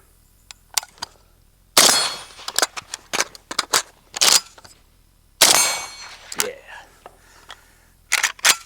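5.56 rounds are worked out of a Bulgarian RPK magazine, producing loud, irregular metallic clicks, snaps and clacks in short bursts with quiet gaps between them.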